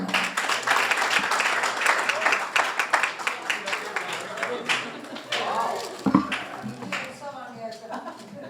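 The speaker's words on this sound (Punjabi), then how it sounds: "ਜ਼ੋਰਦਾਰ ਤਾਲੀਆਂ ਦੇ ਨਾਲ" An audience at a Punjabi community event in Canada claps loudly in dense, sustained applause, with a voice speaking over it.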